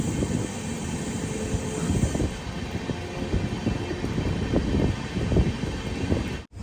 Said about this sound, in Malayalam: ലുധിയാന സ്റ്റേഷനിലേക്ക് ഇതാ ട്രെയിൻ എത്തിക്കൊണ്ടിരിക്കുകയാണ്